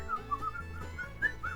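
A whistled melody from the film Hundreds of Beavers: a short run of quiet, clear notes rising and falling in a simple tune, heard alone and close.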